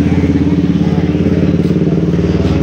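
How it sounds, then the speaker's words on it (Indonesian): Motorcycles idle in a queue for the ferry to Lombok, a loud, close, pulsing engine putter running steadily throughout. "Pertama di depan ini adalah antrian motor, lihat banyak banget guys."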